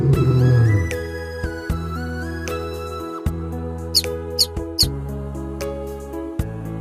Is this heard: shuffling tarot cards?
no